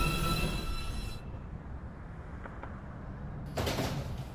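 A New York City subway Downtown Express 2 train at Beverly Road station during evening rush hour, with rumbling rail noise and a hissing burst at the start, a quieter lull, then another loud rush of air as the doors work.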